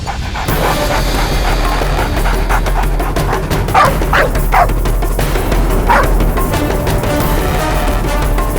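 A dog barks and yips in short bursts within a tense detective drama scene, several sharp calls standing out over a steady background bed of music and ambience.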